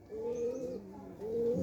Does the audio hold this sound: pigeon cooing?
yes